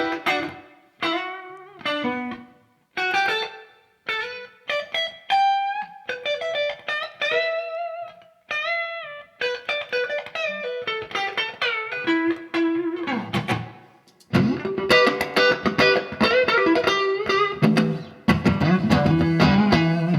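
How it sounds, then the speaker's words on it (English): Guitar played through a Strymon Flint reverb pedal on its smooth 70s plate-style setting: picked notes and chords ring out with a soft reverb tail, moving into denser strummed passages near the end, with no talking. "the 70s is a little more like a smooth sounding reverb"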